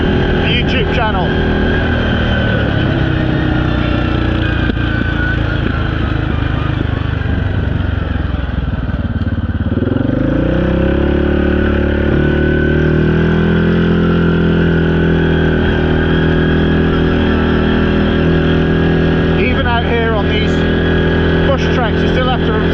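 A quad bike engine running continuously while riding along a dirt road, loud close motor drone that dips and climbs as speed changes, with a voice talking over the engine.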